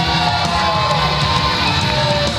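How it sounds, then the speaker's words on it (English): Wedding guests at a reception cheer and applaud for the bride's parents, a loud continuous wash of clapping mixed with yells and whoops from a close crowd. "let's have a nice round of applause for the parents of the bride"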